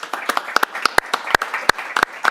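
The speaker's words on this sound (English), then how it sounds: "Round of applause." Sparse round of applause at an ordinary council meeting, a handful of people clapping in distinct, uneven, close-sounding claps rather than a full ovation.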